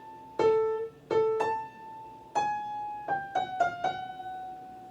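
Piano notes played slowly, a few single tones ringing out and sustaining, then a quicker cluster of descending notes, clear and close with no talking.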